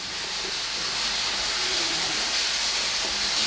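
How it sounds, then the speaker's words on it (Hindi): Tomatoes and bell peppers lightly frying in a pan for chicken shashlik give off a steady, even sizzle and hiss, close and unbroken, with no voices. "अब इनको थोड़ा सा लाइट फ्राई करेंगे। इनको थोड़ा सा लाइट फ्राई करेंगे"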